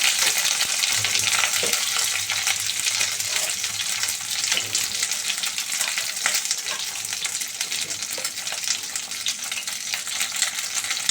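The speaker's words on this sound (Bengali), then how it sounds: "শিমগুলো কড়াইতে দিলাম একদম তেল করে রেখেছি আঁচ বেশি জোরে করিনি তেল করে ভাজতে হবে" Flat beans fry in oil in a wok over moderate heat, giving a steady, dense sizzle that runs unbroken throughout, with faint stirring scrapes mixed in and no talk.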